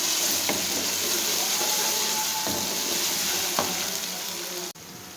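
Freshly pounded ginger, garlic and green chilli paste fries in a pan with a steady loud sizzle and a few stirring scrapes, cut off sharply near the end.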